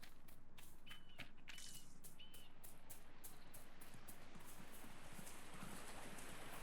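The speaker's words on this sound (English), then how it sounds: "I hear a snuffling horse" Horse in the video game Dragon Age: Inquisition, heard as steady, faint clip-clop hoofbeats in a quiet outdoor setting, with a few soft high whistling tones mixed in.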